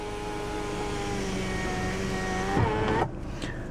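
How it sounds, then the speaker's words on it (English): A large electric one-touch sunroof on a 2009 Nissan X-Trail 2.0 dCi slides open with a steady motor whine and hum, ending in a brief clunk as it stops, heard close inside the cabin. "this one is actually a fully functioning sunroof, and a very big one at that, can open all the way back to there."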